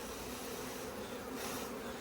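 Honey bees buzz around an open colony hive with queens, a soft continuous hum close by, steady and low in level, with no voices.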